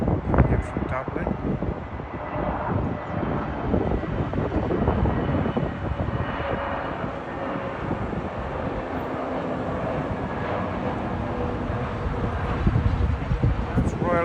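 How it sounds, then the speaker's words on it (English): An Aer Lingus Airbus A320neo jet arriving from Dublin lands at London Heathrow, its engine roar steady and broad across the whole span, with voices talking over it. "Aer Lingus, the A320neo, coming in from Dublin."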